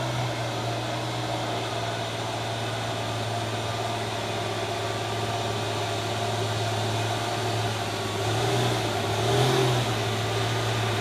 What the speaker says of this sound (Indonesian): Isuzu F berkepala putih. Ya, mengaung mesinnya.